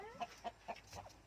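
Rhode Island Red breeder hens in a coop during egg collection, three quick soft clucks in a row followed by a fainter murmur, close by and quiet.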